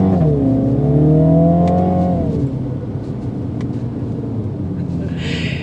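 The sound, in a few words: 2023 Mini JCW Countryman accelerating in sport mode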